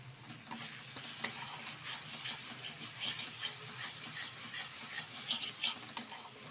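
Chana masala spices fry in hot oil while being stirred in a pan, giving a steady close sizzle broken by frequent scraping and stirring strokes.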